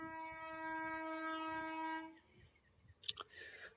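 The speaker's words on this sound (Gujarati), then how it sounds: "વિજળી ટ્રેન છે વિજળી" An electric train passes a rural level crossing, a loud sustained tonal horn-like blare for about two seconds, then fading rumble and a few sharp clanks near the end.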